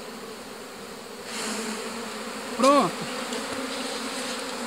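Bees swarm around an opened wooden beehive box being inspected, their steady buzzing hum running throughout, with one louder close pass of a bee near the middle and a brief spoken word.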